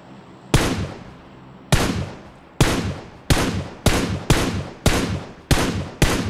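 Rifle spray in a shooter video game, eight loud, sharp shots fired in separated bursts, each with a ringing decay, close and alone without talk.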